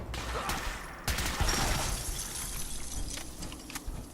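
A gun firing explosive radiation rounds in Fallout 4 sounds as rapid bursts of cracking shots with shattering impacts, loud and close, followed by scattered blasts over game ambience.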